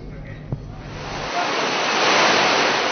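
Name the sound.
heavy rain with strong wind in Jakarta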